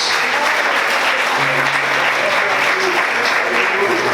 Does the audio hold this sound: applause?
yes